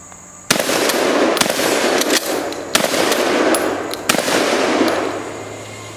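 A Remington 870 pump-action shotgun holding four rounds fires a loud, sharp blast that rings out, followed by a few more sharp cracks and clacks over a sustained noisy wash, with no talking.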